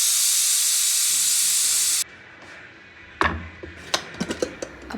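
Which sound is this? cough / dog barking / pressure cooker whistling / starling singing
pressure cooker whistling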